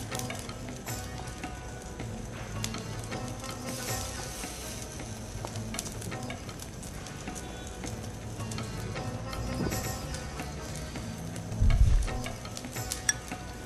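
Malai kebabs coated with chilies and coarse black pepper sizzle steadily in a hot pan as they are turned, with a constant crackling fry, soft scraping, and a brief louder clatter near the end.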